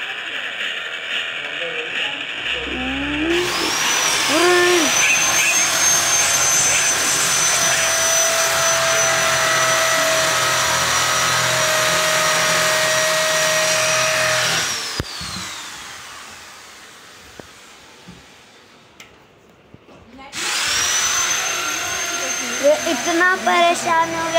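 A loud, steady roaring rush like a train passing in a game fills the scene, drops away to a quieter rumble, then surges back.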